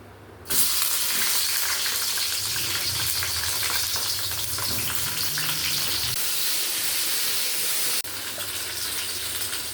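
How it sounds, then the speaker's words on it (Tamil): Washed, cleaned okra drops into hot oil in a pan at home and fries with a loud, steady sizzle throughout, close up and continuous, with no voices. "வெண்டைக்காய் எல்லாம் கழுவி நல்லா சுத்தமாக எடுத்து வச்சுருக்குதுங்க. போட்டுக்கலாங்க."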